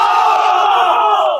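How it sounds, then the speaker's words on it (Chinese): A large crowd of spectators erupts in a loud, roaring cheer in an animated drama, a brief, sustained collective shout lasting just over a second. "台下爆发出了山呼海啸般的掌声和欢呼声"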